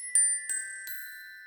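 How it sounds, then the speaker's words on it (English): Bright glockenspiel notes in a throwback R&B production, three struck tones ringing out with long shimmering sustain, close and clean with nothing else playing. "That glockenspiel adds that nice, brilliant shimmer to some of those counter melody"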